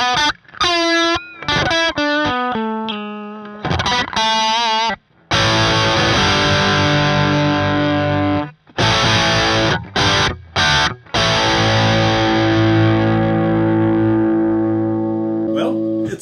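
An electric guitar plays a heavily distorted tone through a Kemper amp profile, loud and sustained, with a few short clean phrases at the start and brief gaps between chords.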